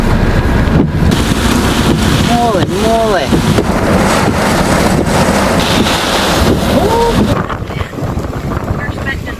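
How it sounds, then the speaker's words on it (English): Strong hurricane wind roaring loudly and continuously into the microphone with surging gusts, mixed with crashing waves and the whine of rigging or gear, while a voice exclaims partway through. "There's that wind."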